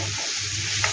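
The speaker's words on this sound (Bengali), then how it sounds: "নারকেল কুচি আর একটুখানি টমেটো, এগুলো সব মিলিয়ে এবার ভাজবো" Grated coconut and a little tomato frying together over medium heat for a chana dal, giving a short, steady, close sizzle with no talk.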